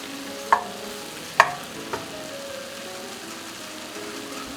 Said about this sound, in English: Stir all the spices in.